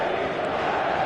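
Stadium crowd at a football match between Paris Saint Germain and Bayern Munich, a dense steady roar of many voices filling the air, loud and continuous.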